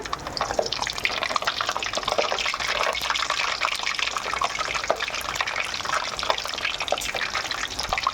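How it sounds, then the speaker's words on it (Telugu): Vadas made from chana dal and black-eyed peas fry in hot oil, a steady dense crackling sizzle heard close and alone. "నేను ఆయిల్లో వేసుకున్నాను వీటిని ఫ్రై చేస్తున్నా"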